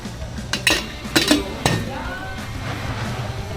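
Metal lid set onto a cooking pot of simmering food in a home kitchen, a few clinks and clanks in quick succession, then a quiet background hiss.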